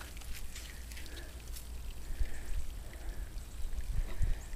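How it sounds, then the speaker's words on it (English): Hot wort drains from a bag of boiled hops during an all-grain brew-in-a-bag IPA batch, a soft continuous trickle and patter of liquid with a few low thumps, close and fairly quiet, with no speech. "So we have the hops draining."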